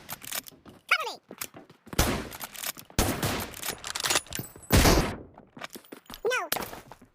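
Gunfire in a video game: several loud bursts and sharp shots in quick clusters, with shouted voices from players and game characters breaking in between the volleys.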